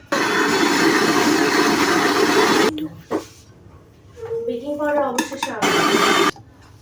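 An electric blender whirs steadily while mixing a batter of salt, sugar, egg and soybean oil, then cuts off into clinks and kitchen clatter, then starts up loud again briefly.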